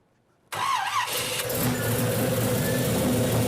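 A brief starter whir, then a car engine catches and settles into a steady, close idle that rumbles on to the end.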